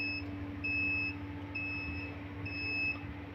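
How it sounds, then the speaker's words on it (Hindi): A homemade egg incubator's alarm beeps in steady, evenly spaced high-pitched tones after its door was opened and humidity and temperature dropped, over a constant low electrical hum. "दरवाज़ा खोलने से उसकी ह्यूमिडिटी कम हुई है, टेम्परेचर नीचे आया है और ये अलार्म करने लग पड़ा है।"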